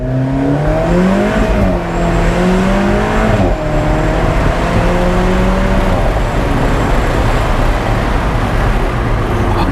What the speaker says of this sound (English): shift into the first gear, and see if we can get this car a nice boost